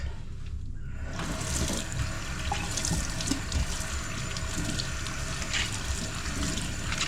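Tap water runs steadily into a sink while freshly harvested garden vegetables are rinsed clean in a home kitchen, a continuous close splashing hiss with small shifts as the produce moves under the stream.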